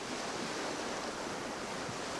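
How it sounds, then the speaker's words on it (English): Stormy Southern Ocean waves surging under strong wind, a steady broadband roar of surf and gusts filling the air with no pauses. "Away from the Antarctic continent, the Southern Ocean is whipped by almost perpetual storms."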